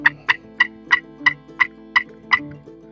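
A wooden turkey box call used for hunting plays a run of sharp, loud cutting clucks, about eight quick, evenly spaced raspy notes in three seconds, close and clear, with no voices.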